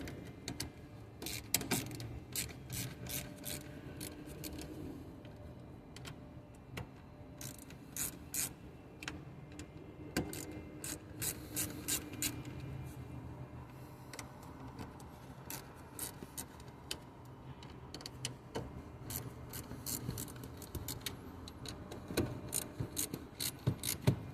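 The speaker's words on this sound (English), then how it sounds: "back to the ratchet" A ratchet wrench turns with rapid, uneven bursts of metallic clicks over a low steady background, the strokes starting and pausing close by, with no talking.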